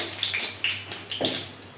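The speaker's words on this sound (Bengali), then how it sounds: "এখন এই তেলের ভিতর আমি সামান্য একটু গোটা সাদা জিরে ফোড়ন দিচ্ছি" Whole white cumin seeds hit hot oil in a pan, giving a quick burst of sharp crackling sizzle with several distinct pops over less than two seconds, close and fairly loud.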